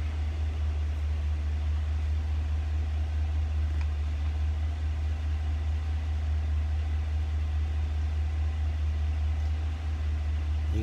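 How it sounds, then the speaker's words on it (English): A Chevy Silverado pickup truck's engine idles steadily, a constant low hum and drone running unbroken throughout, with no talking. "the truck's running"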